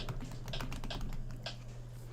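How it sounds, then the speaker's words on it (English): Quiet, quick typing on a computer keyboard, a run of soft irregular clicks over a steady low electrical hum, with no voices. "I was typing stuff in for the vlog"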